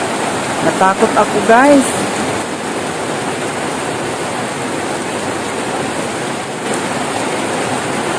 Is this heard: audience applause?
no